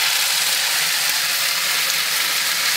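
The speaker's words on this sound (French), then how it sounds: "Une fois que les oignons ont bien bruni, je rajoute la sauce tomate." Browned onions and tomato sauce fry in olive oil, a steady close-up sizzle and crackle that runs unbroken throughout with no voices.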